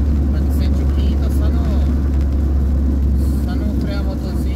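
A loaded truck rolls downhill in fifth gear under engine braking, giving a steady, loud low rumble that holds evenly throughout, with faint road and wind noise above it.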